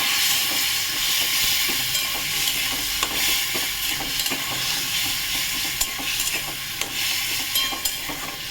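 Katla fish belly pieces with pointed gourd simmering in a pan just after water goes in, a steady bubbling sizzle with faint clinks and stirring scrapes throughout, close and continuous with no talking.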